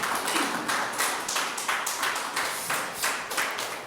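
A church congregation claps in rhythmic unison, a rapid, evenly spaced series of sharp claps that continues steadily from start to finish.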